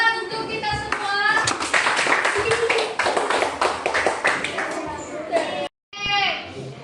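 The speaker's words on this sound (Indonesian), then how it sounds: "Tepuk tangan untuk kita semua" A classroom of schoolchildren claps together at the end of a lesson: a quick, uneven run of sharp hand claps that fades, briefly stops, and starts again, with children's voices and talk mixed throughout.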